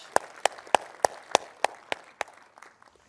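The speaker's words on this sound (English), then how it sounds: "Let's give them one more round of applause." A conference audience at an AI industry event gives a slow round of claps, about eight distinct sharp hits spaced evenly and fading toward the end.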